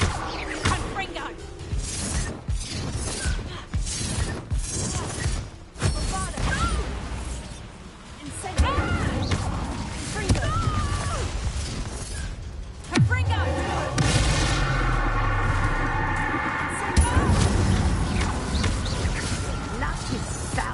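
Blasting-curse explosions from Hogwarts Legacy, with repeated booms and crashes mixed into game music and effects, alongside spoken voices throughout.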